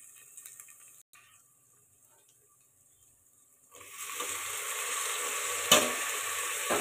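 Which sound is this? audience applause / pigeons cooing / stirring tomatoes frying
stirring tomatoes frying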